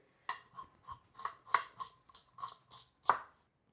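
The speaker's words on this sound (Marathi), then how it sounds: "मी आता कांदा कापतोय" An onion is chopped with a knife on a board at home, about ten crisp sharp chops in an uneven rhythm, close and clear in a quiet room with no talking.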